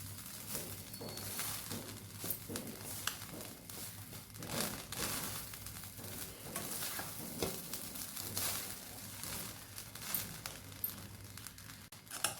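Minnapappu rice being stirred in a hot pan, a steady soft sizzle of frying with scraping spoon strokes throughout, close and moderately quiet.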